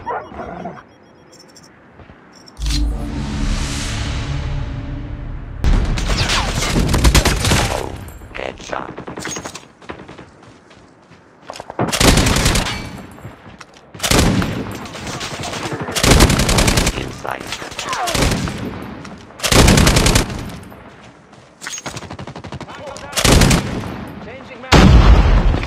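Call of Duty Mobile gunfire during a match in a new game mode, repeated loud bursts of automatic fire broken by brief pauses, with a dog-like bark and game voice announcements in between.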